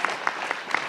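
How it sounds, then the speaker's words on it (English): Brief applause at a school announcement event, a few distinct claps spaced out and fading, moderately close. "How about another round of applause for these guys?"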